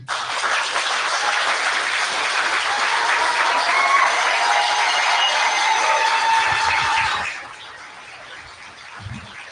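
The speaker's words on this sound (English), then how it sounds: "give a hard applause as I invite Dr. Fred Matiang'i" Applause welcoming Kenyan politician Dr. Fred Matiang'i at the Hyatt Regency Baltimore, a sustained round of clapping with scattered cheers that fades out near the end, followed by faint room sounds.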